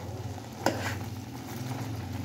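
Cauliflower and tomato curry cooks in a pan, a soft steady sizzle broken by a single sharp scrape of a spoon stirring it close by.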